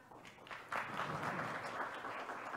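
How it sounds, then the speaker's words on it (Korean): Applause from a Korean political audience at a talk on local autonomy, a dense, steady wash of clapping that swells near the start and carries on without voices. "박수가 반으로 줄어든 것은 여기 구청장들이 몇 명 와 있기 때문에 그래요."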